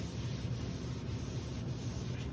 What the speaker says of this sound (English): You want to hand sand, you want to go with the grain.